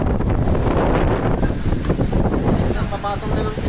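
Strong Typhoon Odette wind roars at night in a continuous, loud, buffeting rush that batters the microphone without a break.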